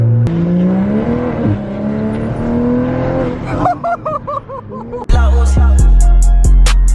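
Car engine on a dyno day in Hawaii blips from a light throttle tap, revving up and falling back in loud rising and falling sweeps, then choppy bursts and a sharp hit as loud music with heavy bass cuts in.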